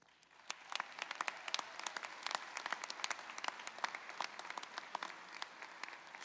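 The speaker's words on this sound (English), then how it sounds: "one more round of applause for the class of 2023" Large audience applauding at a university commencement ceremony for the graduating class of 2023, a dense, steady wash of many hands clapping, moderately distant and sustained without talk.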